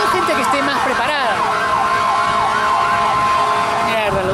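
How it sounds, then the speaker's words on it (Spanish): Ambulance siren wailing as it passes along a street in South Beach, its rising and falling tones loud and close over steady traffic noise, briefly mixed with a voice at the start. "una ambulancia"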